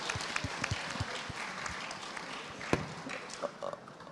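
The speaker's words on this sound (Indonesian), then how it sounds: "kita beri aplaus untuk" Scattered audience applause at a seminar on a smart city master plan, faint and sparse, with individual claps popping irregularly rather than a dense roar.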